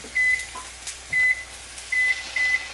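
Microwave oven heating a bowl of oats, giving four short high electronic beeps at uneven intervals over a quiet background hum.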